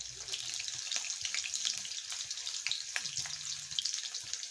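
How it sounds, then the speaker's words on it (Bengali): Potatoes frying in hot oil, a steady crackling hiss with scattered pops, near and continuous throughout with no talking. "তো এখন তো গাইজ তেলটি গরম হয়ে গেছে, তো আমরা আলুটা ছেড়ে দিয়েছি। আলুটা ভাজা হবে"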